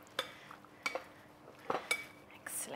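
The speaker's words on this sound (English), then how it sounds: "Give that a good mix." A spoon stirs chicken enchilada filling in a bowl, making several close, sharp clinks and scrapes against the side, with short pauses between strokes.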